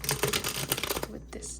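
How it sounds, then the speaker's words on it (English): Tarot cards are shuffled in quick rapid riffling bursts for about a second, close and crisp, then stop, with faint background room tone. "We're gonna shuffle more cards and get more info in"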